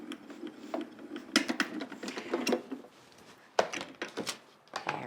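A craft die-cutting machine feeds a long 9-inch border die through its rollers, giving a steady mechanical grinding with irregular clicks and thunks, close by and alone.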